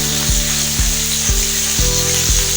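Zinger burger patty frying in a pan over low heat, a loud steady sizzle broken by five evenly spaced low thumps or bubbling bursts, no speech.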